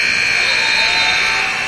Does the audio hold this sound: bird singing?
no